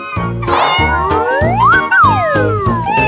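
A cat meows in a string of close, loud, drawn-out cries with rising and falling pitch, one after another with no pauses and no talking.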